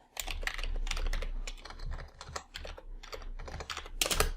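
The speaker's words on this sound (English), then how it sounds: "I apparently can't type today." Rapid typing on a computer keyboard, a dense clatter of key presses in quick bursts with a slightly louder flurry at the end, close and alone without talk.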